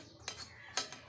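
A knife cuts pointed gourd (potol) on a board in a home kitchen, two or three quiet crisp taps within a second, close by and faint.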